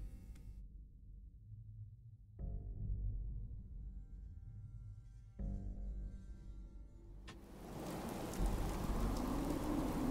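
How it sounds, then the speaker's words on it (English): Steady rain patters throughout in the video game Fallout 4, swelling louder toward the end with a rushing downpour and low rumbles. "Oh, and it's raining?"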